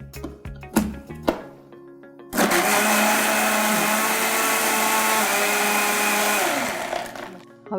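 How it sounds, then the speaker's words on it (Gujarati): A kitchen mixer grinder whirs loudly and steadily for about five seconds, crushing jaggery with a cup of water, with a few clatters and knocks before it starts and as it winds down. "હવે 1 કપ પાણી ઉમેરી દીધું છે અને આપણે મિક્સરમાં ક્રશ કરીશું પહેલાં"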